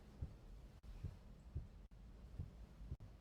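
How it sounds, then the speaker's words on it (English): A heartbeat sound effect thumps low and soft in a steady slow rhythm of paired beats, with a few brief dropouts between them and no voices. "Has that heartbeat sound always been playing"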